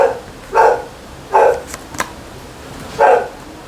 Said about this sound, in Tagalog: Pasensya na, may nagko-concert na aso sa labas.